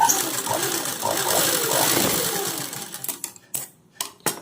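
A sewing machine runs steadily while stitching a seam for a piping or collar cross-piece joint, its hum fairly close for about three seconds before it stops and a few sharp clicks and handling knocks follow.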